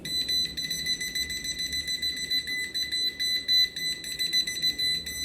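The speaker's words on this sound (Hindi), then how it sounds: "तो दोस्तों आप यहाँ पे देख सकते हैं कि ये पूरी तरीके से बीप बजती रही।" A voltage tester beeps continuously while checking continuity on a red wire, a shrill electronic tone pulsing in rapid, slightly uneven bursts close to the microphone, with no voices.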